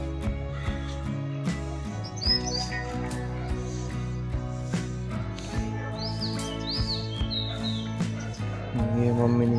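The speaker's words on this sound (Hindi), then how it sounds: "पक्षी उड़ रहे हैं, चहचहा रहे हैं" Birds chirping outdoors on a pleasant sunny morning, short bright calls scattered through the clip over a steady low hum and background noise, with a louder burst of chirps midway.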